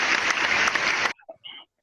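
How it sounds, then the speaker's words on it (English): Applause in an online meeting: a dense, steady wash of clapping for about a second, then cutting off abruptly, followed by faint scattered noises. "So let's give a round of applause."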